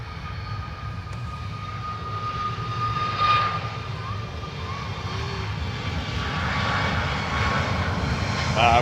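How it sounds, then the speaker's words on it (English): A Ryanair jet airliner in Malta Air livery at Dublin Airport roars steadily with a broad engine rumble that holds and swells slightly, loud and nearby, with no talking. "And the Malta Air liveried Ryanair to Bergamo."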